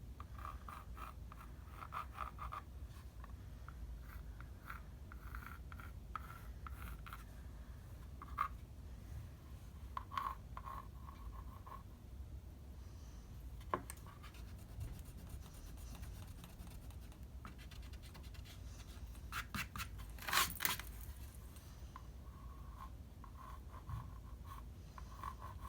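A face is drawn on canvas with steady, faint scratching and scribbling strokes, close and quiet, broken by brief taps and one louder scrape near the end.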